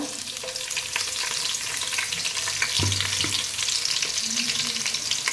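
Onion frying in hot oil in a pan, a steady close sizzle with occasional stirring scrapes, no voices.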